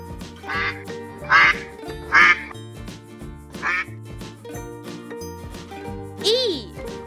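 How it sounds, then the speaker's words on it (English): Cartoon duck quacking in a children's alphabet song, several loud bright quacks in a rhythmic pattern over a bouncy musical backing with light jingles, ending on a rising squeaky quack. "D is for duck."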